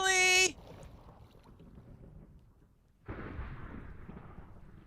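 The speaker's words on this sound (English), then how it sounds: "Oh, and it's in a thunderstorm." A loud rumble of thunder during a thunderstorm in Minecraft rolls in after a bright tonal game sound and a quiet stretch, then holds steady as a low, grumbling roar to the end, no talking.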